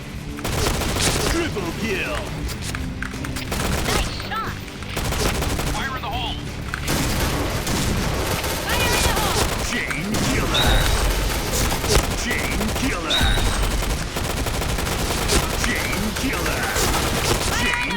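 Heavy gunfire from powerful weapons in the video game PUBG rattles out in dense, near-continuous bursts and loud blasts, with someone talking over the shooting.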